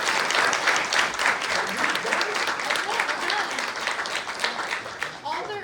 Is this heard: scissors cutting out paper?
no